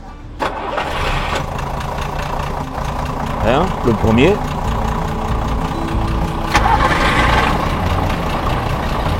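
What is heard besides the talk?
train locomotive diesel engines starting one after the other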